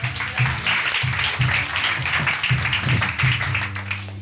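An audience at a live science storytelling show applauds a participant, a loud, close round of clapping with steady rhythmic bursts and some low voiced sounds mixed in.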